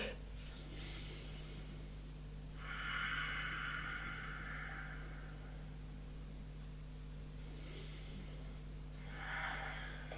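Two long, deep breaths taken while stretching with both arms raised overhead, each a soft airy rush close to the microphone over a steady low hum, with quiet gaps between.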